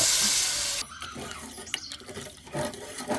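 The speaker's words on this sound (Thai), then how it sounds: "แล้วก็เติมน้ำเลยเจ้า" Water poured into a cooking pot, a bright hissing rush that cuts off abruptly and gives way to quieter bubbling and splashing, close by.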